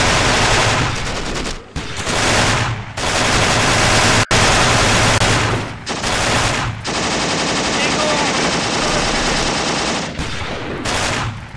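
Half-track machine guns in the video game Achtung Panzer fire loud, dense, sustained bursts, broken by a few brief pauses, continuing for several seconds.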